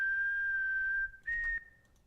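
Improvised whistling in a single take, a sustained high tone that holds steady for about a second, drops away briefly, then returns as a wavering phrase before fading out.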